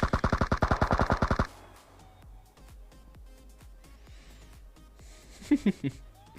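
Rapid automatic gunfire from a video game battle royale scrim, a tight burst of about a dozen loud shots up front, then scattered fainter distant shots and a couple of sharp louder cracks near the end.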